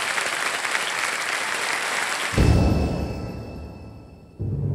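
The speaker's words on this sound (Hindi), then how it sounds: "तालियां बजती रहें इनके लिए।" Studio audience applause on a televised Hindi quiz show's fastest-finger round, a dense steady wash of many clapping hands that swells into a louder burst midway, fades, then rises again, with no speech over it.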